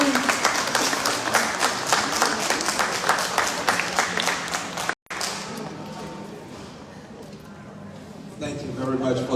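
An outdoor community crowd at a memorial gathering in a Houston park applauds for a congressman. The clapping is loud and dense, then cuts out briefly and a voice starts speaking over the fading applause.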